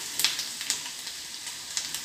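Garlic and ginger sizzle in a hot pan while being stirred, giving a steady, fairly quiet frying hiss broken by small crackling spits and scraping bursts, close up with no talking.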